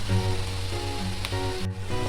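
Carrots and onions fry steadily in a hot pan for borscht, a soft crackling hiss with a faint hum beneath and one brief clatter.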